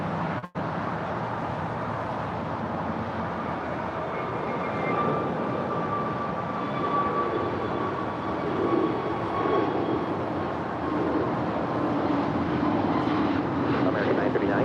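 An American Airlines Airbus A321neo jet takes off from LAX, its engines a broad, sustained roar that builds gradually and holds at a distance, with a sharp click near the start.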